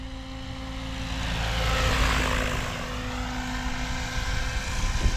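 An XLPower Specter 700 RC helicopter whines overhead, its buzzing rotor tone swelling as it passes close, then steadying at a distance.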